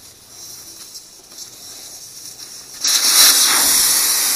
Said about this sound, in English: Now I got to wait for all that air to get out